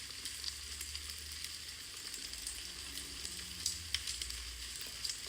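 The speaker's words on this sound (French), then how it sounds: "Tu peux entendre le crépitement de ses braises." Soft, steady crackling of campfire embers with scattered sharp pops over a low rumble, faint and continuous in a calm outdoor setting.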